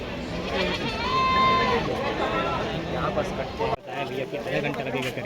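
Goats held for sacrifice at Nirai Mata temple in Gariyaband, Chhattisgarh, let out a wavering bleat over a noisy crowd, with chatter and voices nearby throughout.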